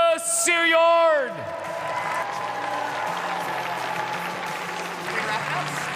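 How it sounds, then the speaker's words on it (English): An amplified voice rings out briefly in the Maturi Pavilion arena at an NCAA gymnastics meet, then a large crowd breaks into sustained applause and cheering that fills the hall and holds steady. "let's give a huge round of applause for your Gopher Gymnastics senior class"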